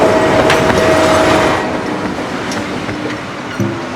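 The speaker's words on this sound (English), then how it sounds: "Coal leaves Vietnam's mines on trains and passes through a network of coal towns." A coal train in Vietnam's mining region rumbles loudly along the rails nearby, a continuous heavy roar with wheel clatter and a brief steady horn-like tone early on.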